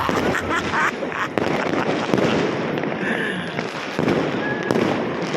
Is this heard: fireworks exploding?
yes